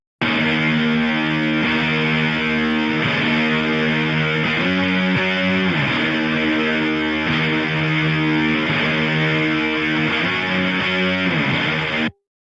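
Distorted fuzz guitar tone shaped by a JST Bassforge Hellraiser with a compressor set for a firmer sound, playing a steady riff with rhythmic chord attacks, loud and dense throughout before cutting off at the end.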